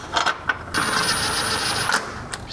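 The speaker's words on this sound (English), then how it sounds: "Now we are able to install the bolts." Ratchet tightening oil pan bolts on a 2007-era E93 BMW 328i during an oil pan gasket job, a few quick clicking bursts followed by a steady mechanical whir, close and moderately loud with no talking.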